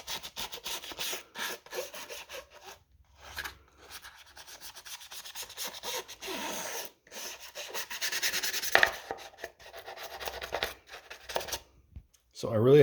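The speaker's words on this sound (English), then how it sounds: "So I really had to scrub this part again on this subwoofer" Rough back-and-forth scrubbing on a Rockford Fosgate RFR 1410 subwoofer during a restoration, close and uneven strokes with brief pauses and a few sharper scrapes near the end.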